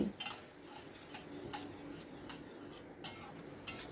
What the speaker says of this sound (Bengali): অনবরত কিন্তু নাড়তে হবে, নেড়ে নেড়ে মশলাটাকে খুব ভালো করে কষিয়ে নেব।